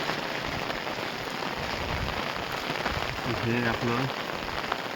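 Steady rain falls outdoors over farmland near Junnar in Pune district, a dense, constant hiss of drops on surfaces, with someone speaking briefly under it.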